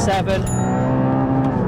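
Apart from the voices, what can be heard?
Porsche GT4 engine revving up through gear shifts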